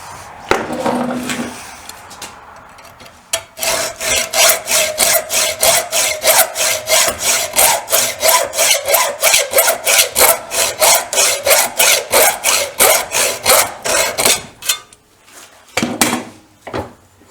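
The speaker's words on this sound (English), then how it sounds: "here's the last little bit of sawing" A hacksaw rasps back and forth in a fast, steady rhythm of bright strokes, close and loud, then slows and stops, cutting a part for a Royal Enfield Bullet 350 trials motorcycle.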